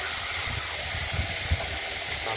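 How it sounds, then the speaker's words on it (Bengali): Katla fish head, salted and coated with turmeric, frying in oil in a kadai, giving a steady hiss and sizzle with low bubbling throughout, fairly close and alone with no talk. "কাতলা মাছের মাথাটাকে ভেজে নিচ্ছি"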